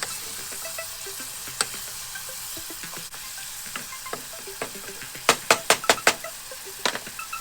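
Cabbage cooks in a pan with a soft, quiet sizzle, broken by scattered knocks and a quick run of sharp clinks from stirring near the end.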